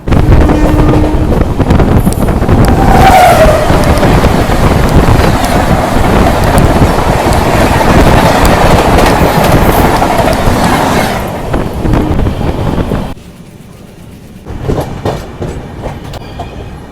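The 22642 SHM TVC Superfast Express rumbles loudly along the track, carrying a steady roar with clickety-clack and wind buffeting close to the microphone, then easing into quieter rattling near the end.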